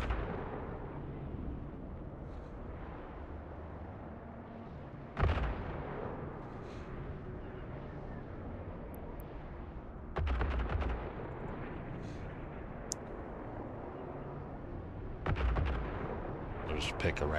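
Artillery fire from a Rifter frigate in EVE Online, heavy booming volleys at roughly five-second intervals over a constant low rumble of engine and ambient drone, with no speech over it.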